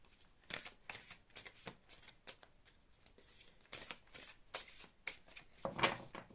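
Oracle cards are shuffled and drawn from a deck, giving a series of quiet, quick papery riffles and flicks in irregular bursts, close and soft.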